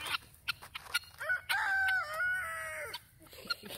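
A rooster crows once in the middle, framed by scattered clucks and sharp clicks from nearby guineas and chickens.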